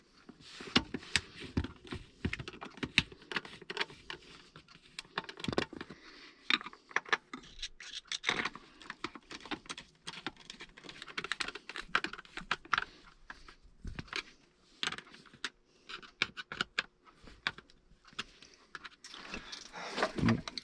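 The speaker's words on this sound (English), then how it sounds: "now that that's on, we can just put our screws back in." Screws being put back into a pool filter multiport valve during a spider gasket replacement, heard as close, irregular scratching and tapping clicks spread through the whole span with no talk.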